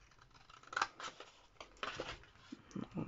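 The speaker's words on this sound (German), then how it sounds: "Und an dieser Linie schneiden wir jetzt auch, wo habe ich denn meine Schere hin?" Scissors snip through paper along a drawn line while making a card-stock box, a series of short crisp cuts and scrapes close by, quiet, with no talking.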